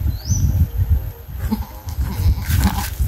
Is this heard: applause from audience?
no